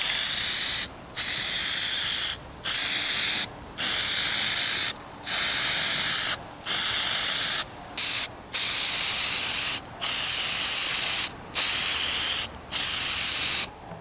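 Plasti Dip sprays from an aerosol can onto the emblems of a 2021 Chevy Trail Boss in repeated hissing bursts of about one second each, separated by short pauses, close and loud with no speech.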